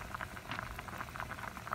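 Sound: pot of water boiling on the stove

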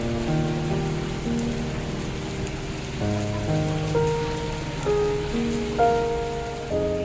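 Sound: rain falling on street

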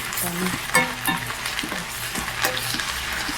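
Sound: frying ginger garlic paste in a pan

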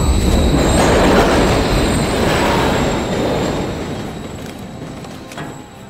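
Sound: train passing in video game

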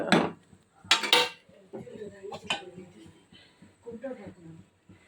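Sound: frying pan lid being handled

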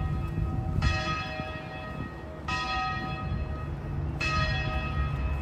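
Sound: church bells ringing at Brown University

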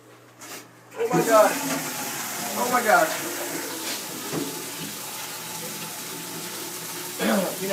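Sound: water running from tap to fill a container

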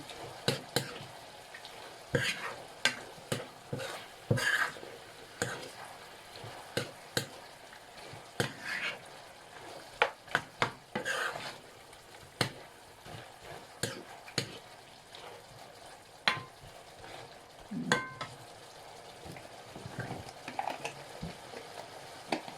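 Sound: beef simmering in coconut milk and curry paste

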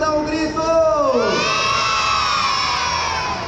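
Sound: children shouting and cheering excitedly

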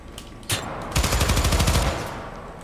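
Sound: gunfire from a gun in the video game Syndicate

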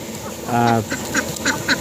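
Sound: ducks quacking

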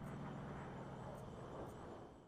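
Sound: seaplane engine in video game Far Cry 5

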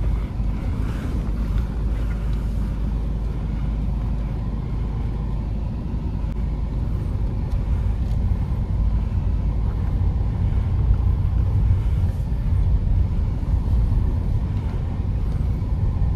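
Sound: Ford EcoSport diesel car driving through narrow streets

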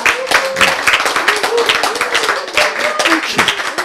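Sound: audience clapping hands

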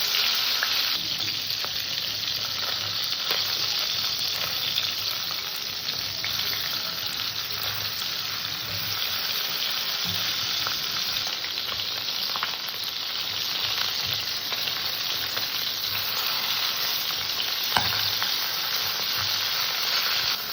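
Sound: tilapia fish with turmeric and salt frying in oil

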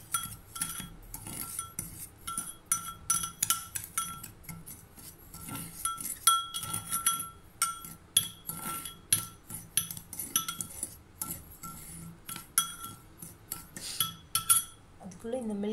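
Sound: spoon stirring sugar and coffee in a cup

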